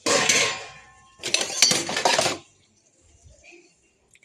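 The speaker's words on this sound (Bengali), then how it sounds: "বাসন কুসন মেজে আনলাম, এখন এগুলো সব গুছাবো, গুছিয়ে তারপরে র্যাকের মধ্যে গুছিয়ে রাখবো" Washed metal dishes and pots clink and clatter as they are stacked onto a rack, in two close, busy bursts of clanking followed by quieter scattered knocks.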